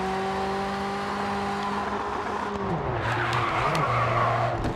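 A race car in the video game Grid 2 drives with a steady engine drone, then shifts down and skids with squealing tires as the engine pitch drops midway.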